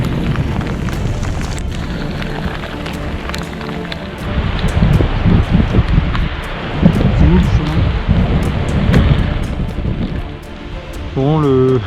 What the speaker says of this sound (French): Ça commence à grêler.